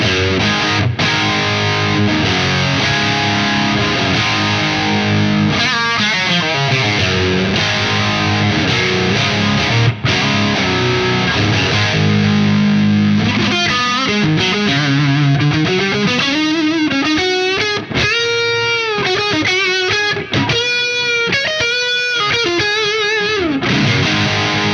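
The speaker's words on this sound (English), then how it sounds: "this is just the overdrive channel of the Soldano without the compressor on" A heavily overdriven electric guitar through a Soldano amp's overdrive channel, no compressor, plays chords and sustained bending notes, washed in reverb and echoing delay, loud and continuous with no voices.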